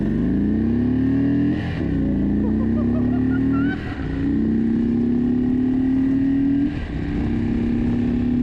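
Indian Super Chief motorcycle, previously flood-damaged, accelerating hard in sport mode, its engine note climbing steadily through gear changes with brief dips between shifts, loud and close throughout.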